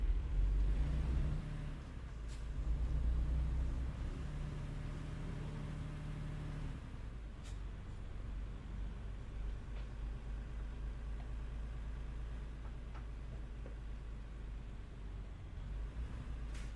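A brand-new truck engine in American Truck Simulator drives along at a steady low rumble, with a deeper hum at the start that eases off after a few seconds, then a constant cab drone with a few faint clicks.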